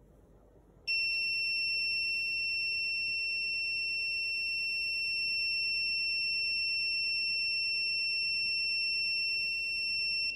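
A SARCTRAC Mk2 3D sensor gives a continuous high electronic tone during factory calibration, starting abruptly and holding steady over a faint background hiss.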